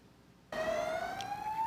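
A fire engine siren bursts in suddenly and wails loud and close, its pitch climbing steadily, heading to a wildfire at Avantas village in Evros, Greece.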